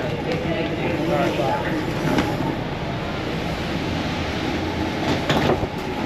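Inside a moving train carriage in New York, a steady loud rumble of wheels and rolling stock fills the space with faint rhythmic clacks, while people talk nearby.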